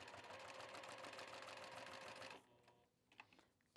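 Sewing machine running steadily around a piece of fabric, a dense continuous mechanical whir that stops partway through, followed by a few quieter clicks and handling sounds.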